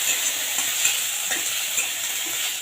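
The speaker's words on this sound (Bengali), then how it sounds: "রসুনটাকে একটু ভেজে নেব।" Ginger garlic paste frying in a pan after onions for egg curry, a steady close hiss of sizzling oil with light stirring scrapes and no voices.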